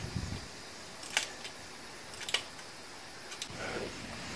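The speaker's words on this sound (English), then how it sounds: "I got my socket on there. And I'm turning it with this hand after I loosen it up some." Socket wrench ratcheting on a throttle body bolt of a 2010 Dodge Caliber SXT, a few faint, sharp clicks in short bursts against quiet background.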